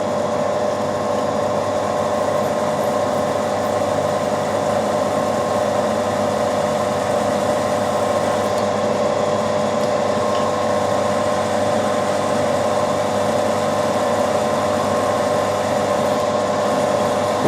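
A steady mechanical hum of a drill press running continuously at an even pitch, loud and close, with no talking.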